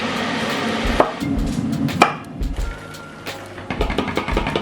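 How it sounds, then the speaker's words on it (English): Half a lemon being sliced with a knife on a cutting board in a home kitchen, with several distinct chopping thuds spaced irregularly over a light background hum. "I'm about to cut up half a lemon"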